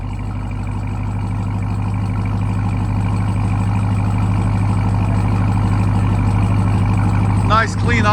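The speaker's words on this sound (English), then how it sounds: "Nice clean idle. This is idle, guys." Steady, deep rumbling idle of a 2022 Ram 4x4 TRX truck engine through Flowmaster Outlaw exhaust, loud and close and even throughout, with a brief disturbance near the end.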